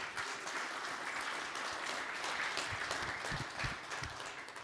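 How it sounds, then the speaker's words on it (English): A keynote audience at a Linux Foundation open-source event claps for sponsors, a sustained wash of fairly soft applause from a large crowd heard from a distance, with no voices over it. "Let's give them a round of applause."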